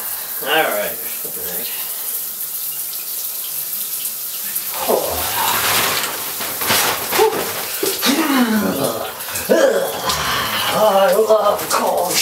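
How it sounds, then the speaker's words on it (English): Cold water runs from a shower in a room with no hot water, a continuous close splashing rush. A person speaks over it for most of the time. "I need to take a cold shower because there's no hot water in this place."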